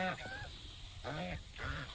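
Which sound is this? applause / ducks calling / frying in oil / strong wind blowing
ducks calling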